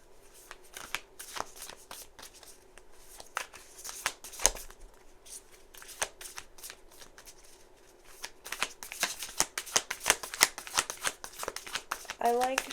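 Tarot cards are shuffled in quick riffling bursts, close up, with brief pauses between bouts and a quiet voice speaking in the background.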